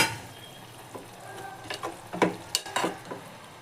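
A spoon stirs a fenugreek-leaf moong dal fry in a hot pan, producing a faint sizzle broken by several close, uneven scraping strokes that grow busier toward the end.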